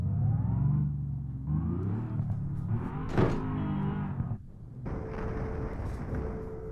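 A Bentley Continental GT in the BeamNG Drive driving game rumbles and revs through several engine pitches, with a sharp crash impact near the middle and a higher-pitched whine afterward.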